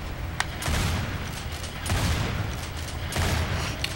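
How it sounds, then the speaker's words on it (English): Shotgun blasts from the Gears of War 2 video game: several heavy, booming shots spaced roughly a second apart over a constant loud rumble of game noise. "here's a demonstration of the controller with the shotgun in Gears of War 2."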